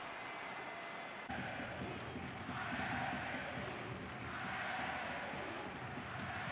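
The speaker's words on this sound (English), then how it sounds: "The crowd trying to back their men" Broad roar of a football stadium crowd backing the Stade de Reims home side against RC Strasbourg, swelling in waves at a distance without distinct voices.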